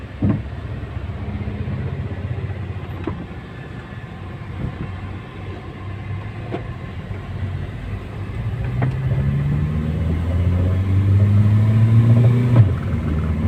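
A 1995 Saab 900S car engine idles and then rises in a low, steady rumble, its pitch climbing slightly toward the end as it revs.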